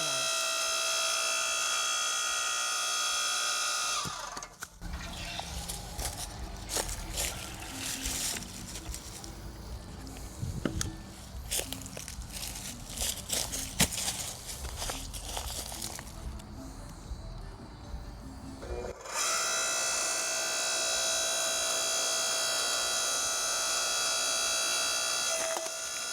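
A Harbor Freight 5 ton electric log splitter working through a piece of wood, giving a close, steady mechanical grind with creaks and irregular cracks for about fifteen seconds between stretches of louder motor hum.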